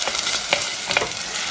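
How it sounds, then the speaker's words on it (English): Garlic cooks in a pan over lowered heat while making tomato sauce from fresh tomatoes, a steady close sizzle with a few scraping stirs, continuous and alone. "Now, continue cooking till things are nice and soft and the garlic has softened up a little bit."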